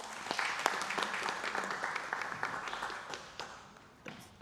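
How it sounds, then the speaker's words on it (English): Applause from an audience at an international summit on inclusive education greets a speaker, as moderate scattered clapping with distinct claps gradually thins and fades. "Please welcome him with a round of applause."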